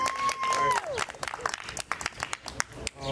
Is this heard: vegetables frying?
no